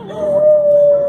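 A puppy at an exotic animal expo in Ixmiquilpan, Hidalgo lets out a single short, loud, close howl that rises into a steady, held tone.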